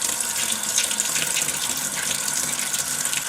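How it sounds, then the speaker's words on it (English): Mains water supply turned back on, flowing into a loft tank of a central heating system with inhibitor, a steady continuous rushing hiss with no speech throughout. "We'll just turn the water back on"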